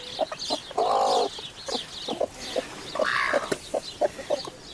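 A broody hen that dislikes being touched or disturbed, sitting as if on eggs with none beneath her, gives a series of close, moderately loud clucks in uneven bursts, with a couple of longer grumbling calls and no talking.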